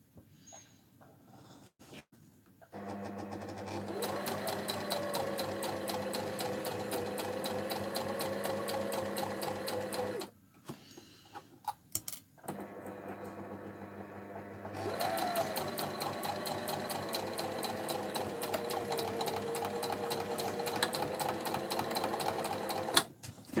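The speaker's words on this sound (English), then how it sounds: "So I'm just guiding my fabric and my needle all the way around the sides." A sewing machine stitches fabric around the sides of a dressform pin cushion, running steadily in two long bursts with a fast, even needle rhythm and brief quiet pauses between them.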